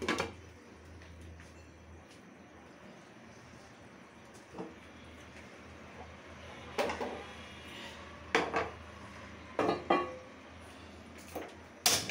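A lid is set onto a cooking pot of shing fish curry with kofi and bori, giving a few faint, scattered metallic clinks and taps over a quiet, low room hum.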